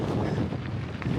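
Wind rushes over the microphone during a gravel bike race in the Driftless region of Iowa, a steady, loud broadband roar with no talking.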